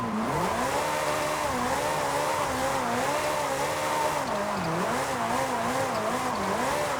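Ferrari F8 drifting sideways in Forza Horizon 5, a steady engine drone whose pitch wavers up and down continuously as the car slides, with faint tire squeal blended in, loud and unbroken throughout.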